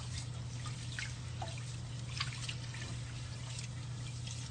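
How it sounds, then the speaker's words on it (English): Rice is rinsed in water with light drips and small trickling splashes, fairly quiet and close, over a steady low background hum. "for Asians, we rinse our rice about 2 or 3 times."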